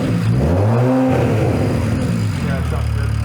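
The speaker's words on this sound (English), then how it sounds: "Give it more revs." A single-turbo BMW N54 engine with a damaged valve cover revs up close by, its pitch climbing then settling into a steady idle-like drone, with garage noise underneath.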